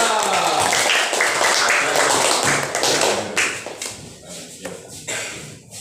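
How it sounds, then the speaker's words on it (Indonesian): A group of students applauds group 3 in a classroom, with dense, loud clapping that thins into scattered claps and fades toward the end. "kasih aplaus dulu untuk kelompok 3"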